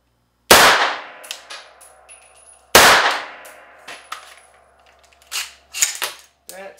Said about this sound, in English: we're going to take two shots, 300 Blackout,